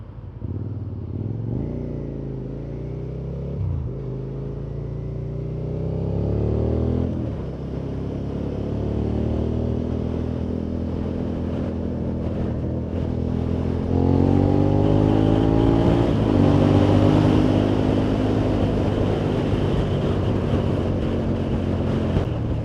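A Suzuki SV650 motorcycle, not quite three years old, pulls hard while overtaking. Its engine note rises repeatedly through the gears with steady wind rush, loud and close throughout.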